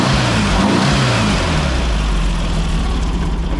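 A 1964 VW Beetle engine runs on a cold start, a loud, close, slightly lumpy idle with a steady low throb and brief rises in revs.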